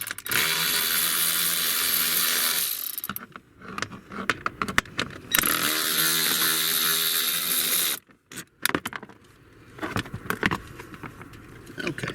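A power tool whirs in long loud bursts and short stop-start pulses while bolts are taken out of the driver's lower dash panel in a Nissan Rogue, with metallic clinks and rattles between runs.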